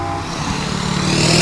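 Classic Ford custom cab-forward truck rolls past at a parade ride honouring first responders, a loud close engine roar building steadily with no voices over it.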